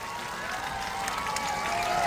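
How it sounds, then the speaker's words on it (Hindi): Crowd applause at an outdoor political rally in Darbhanga, Bihar: a steady, dense wash of many clapping hands heard from a distance, with little change in loudness throughout. "एक बार जोरदार तालियां बजाओ"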